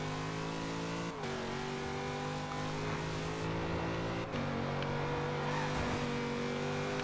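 Rally car in Forza Horizon 2 screaming near redline in top gear, a loud, continuous high-revving engine drone with brief dips in pitch where the revs momentarily drop.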